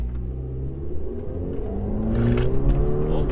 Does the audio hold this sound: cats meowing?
no